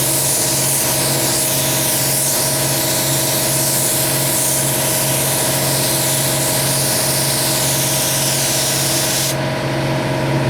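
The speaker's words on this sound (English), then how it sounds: "So we're going to put a light coat of this etch primer." A spray gun lays a light coat of etch primer onto aluminum, a loud continuous hissing spray with a steady compressor-like hum beneath it, unbroken for the whole stretch.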